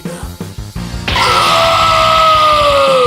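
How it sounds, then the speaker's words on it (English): A loud, sustained, piercing scream from an animated character bursts in after a short stretch of rhythmic thuds and holds strong to the end, dominating everything else. "A blood-curdling scream is heard by none other than Vegito"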